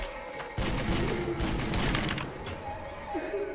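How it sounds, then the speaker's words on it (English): Rapid bursts of assault rifle fire from the Left 4 Dead 2 game, loud and repeated over a few seconds, with a faint ringing tone behind them. "Assault rifle."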